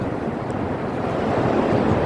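Wind and waves at a white sand beach make a steady, close rush of surf and breeze, with wind buffeting the microphone and the roar swelling slightly toward the end. No voices.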